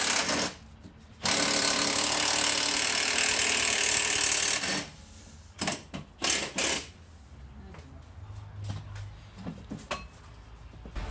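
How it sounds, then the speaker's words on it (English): A power ratchet or impact tool rattles loudly in a sustained burst while removing bolts from a Saab engine, followed by shorter clattering bursts and tool knocks in a garage. "So Brad is pulling the bolts off"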